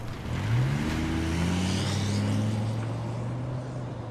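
A car engine revs in the video game Life is Strange, a steady droning hum with rising and falling tones, moderately loud and continuous throughout.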